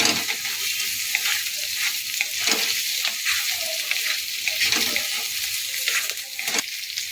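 Potatoes with slit green chillies being stirred in a frying pan for sagu aloo, a steady loud hiss of sizzling oil with repeated scraping strokes of the spatula throughout.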